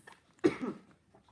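A single short, throaty cough, close and fairly quiet, with a brief tail and no talking around it.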